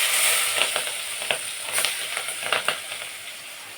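Green chili and garlic paste sizzling in a hot pan, a steady bright hiss broken by soft scraping stirs and small pops, close and moderately loud.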